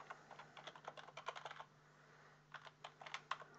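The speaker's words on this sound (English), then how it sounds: "I'll just type mine in there." Typing on a computer keyboard while entering a web address into a LibreOffice Calc hyperlink dialog: two quick bursts of close, light key clicks separated by a short pause, no talking.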